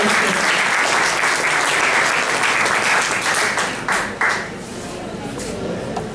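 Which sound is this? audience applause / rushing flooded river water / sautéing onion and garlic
audience applause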